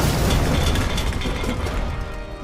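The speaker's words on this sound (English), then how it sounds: "Explosion." A loud explosion in RoboCop: Rogue City, a dense booming blast whose rumbling debris tail slowly fades over a couple of seconds.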